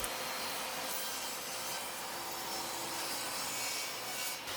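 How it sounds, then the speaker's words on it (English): A table saw cuts a rabbet in a piece of wood, making a bright, steady hissing rasp of blade on timber that holds at even loudness with no talk over it. "A couple quick passes at the table saw for a rabbit"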